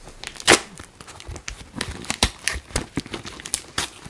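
Tough plastic toy packaging being torn and cut open with a dull knife, heard close as a string of sharp crinkles, cracks and ripping tugs at an uneven pace.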